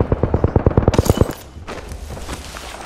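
Rapid automatic gunfire in a squad-based video game: a fast burst of about a dozen loud, evenly spaced shots, then the fire stops and quieter game sounds follow.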